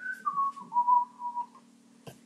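A single person whistles a short, wavering tune of a few sustained notes over a steady low hum, ending with a brief soft thump.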